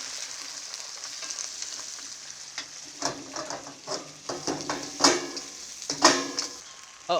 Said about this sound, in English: Stir frying the crab takes about 5 to 7 minutes.